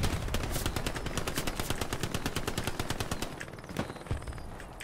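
Rapid machine-gun fire in the World War II shooter Hell Let Loose, a steady stream of crisp close bursts rattling for several seconds before thinning out to a few last shots.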